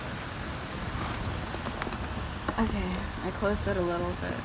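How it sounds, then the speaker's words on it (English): Heavy rain pours in a steady broadband wash throughout, with people talking over it near the end. "Oh, it's pouring so quickly."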